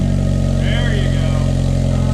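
Honda Civic with an Amazon aftermarket exhaust, its silencer removed, idling with a loud, steady low drone right up close and a brief rise into a rev, with voices talking over it.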